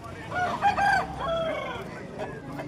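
A rooster crows at a busy Vijayawada poultry market, one rising-and-falling call over a steady bed of crowd noise and other fowl, with faint voices around.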